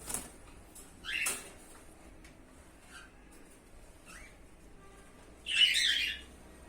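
Budgerigars squawking as an angry moulting male is placed next to a female: a harsh burst near the start, a couple of faint chirps, then a louder raspy squawk near the end over a quiet background.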